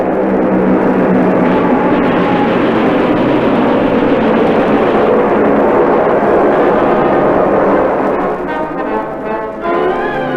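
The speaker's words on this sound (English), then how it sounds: "I'll count the bombs as they fall." A radio drama's wartime bombing effect: a loud, continuous roaring rumble of explosions and engine-like noise close up, easing slightly near the end.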